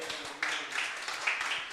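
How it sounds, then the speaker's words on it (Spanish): Faint audience clapping at a church service, a quiet steady patter of many hands heard from some distance. "¿Será que alguien puede aplaudir a Dios por eso?"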